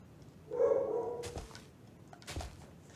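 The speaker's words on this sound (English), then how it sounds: "her barking is getting absurd now" A nearby dog lets out one drawn-out bark, followed by a couple of softer, shorter sounds in a quiet room.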